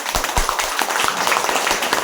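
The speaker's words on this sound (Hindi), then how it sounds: "तालियां हो जाए आप सभी लोगों के लिए।" An audience at a leadership program event applauds together, producing steady, dense clapping from many people that continues throughout at an even, moderately loud level.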